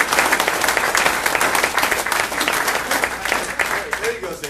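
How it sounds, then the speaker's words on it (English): An audience breaks into a sustained round of applause at a live event, dense steady clapping filling the room at close range for several seconds without pause. "you actually give yourself a round of applause"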